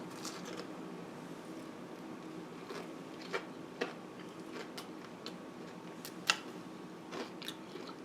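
Crunchy bites into crispy baked tofu with no buffalo sauce, a few sharp crackles and chewing clicks spaced out over steady quiet background hiss, close and fairly soft.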